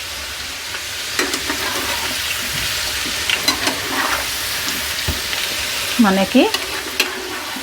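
Whole amla, Indian gooseberries, fry in oil for a pickle, a steady close sizzle with intermittent stirring scrapes and clinks while a voice speaks briefly.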